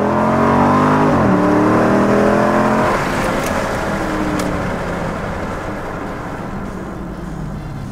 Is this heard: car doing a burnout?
yes